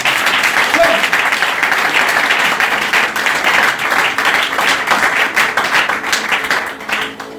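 A church congregation applauds loudly and steadily, a dense wash of many hands clapping for several seconds before easing slightly at the end.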